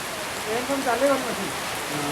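Steady rain falls at the Vaishno Devi Bhawan shrine, a continuous broadband hiss with faint voices talking beneath it.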